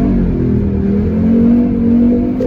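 A Volvo 850 non-turbo pulls away uphill from a standstill with its wheels spinning, the engine droning loud and steady with a rising pitch throughout.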